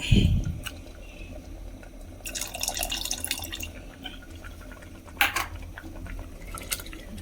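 Tamarind water, squeezed out after soaking, is poured into a pot of dal and colocasia-leaf curry: a short splashing pour followed by scattered drips and light clinks, fairly quiet.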